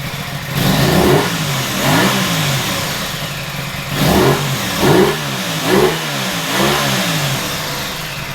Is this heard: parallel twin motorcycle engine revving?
yes